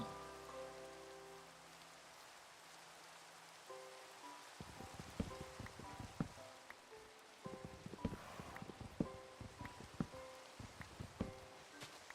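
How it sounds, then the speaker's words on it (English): Dense rain falls in the Minecraft video game, a steady close hiss of patter and scattered droplet ticks running the whole time beneath soft sustained game music tones. "This rain is so dense I can't see."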